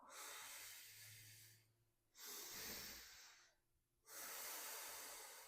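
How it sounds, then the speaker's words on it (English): Slow breathing through the nose during a meditation exercise, with long, even inhales and exhales on a four count. Three soft airy breaths are heard alone, close and quiet, with no talking. "So I'm just breathing in for 4 and I'm exhaling for 4"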